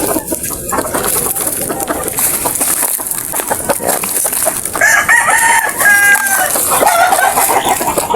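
A brooding hen sitting on eggs under a pile of dry banana leaves in a backyard poultry yard clucks and calls, with a rooster crowing and other fowl in the busy outdoor background.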